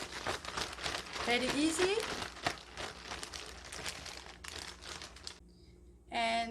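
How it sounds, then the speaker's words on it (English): Pork back ribs tossed with starch inside a plastic bag, giving a rapid, continuous rustling and crinkling close by for several seconds, with a person speaking over it before a short pause and a final burst of crinkling. "Put it in a plastic bag and shake it."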